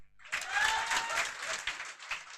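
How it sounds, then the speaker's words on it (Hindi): Classroom applause for a student named Rahul during a polity class, a dense burst of clapping that rises quickly, holds steady, then thins toward the end. "राहुल के लिए जोरदार तालियां"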